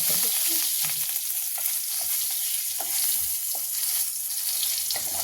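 Whole green chillies sizzle steadily in hot oil in a kitchen pan, a loud, continuous hiss and crackle with occasional soft stirring knocks throughout.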